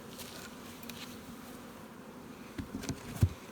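Honey bees buzz around a hive in an outdoor beeyard, a faint continuous drone close by with a few brief louder passes and soft knocks near the end.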